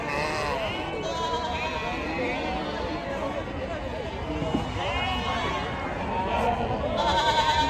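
Sheep bleat repeatedly at a large livestock market, many wavering calls overlapping near and far amid crowd noise, with a person talking throughout.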